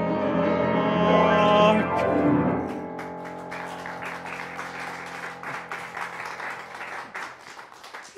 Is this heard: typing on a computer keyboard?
no